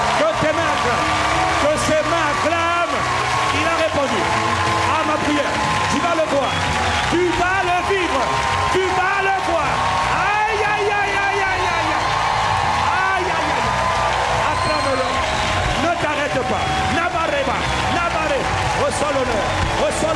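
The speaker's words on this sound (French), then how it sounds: "Tu vas prendre tes deux mains. Tu vas acclamer comme quelqu'un qui a cru." A church congregation claps hands vigorously in praise during a prayer service, a sustained wash of applause beneath a pastor's loud, continuous preaching and voices across the room.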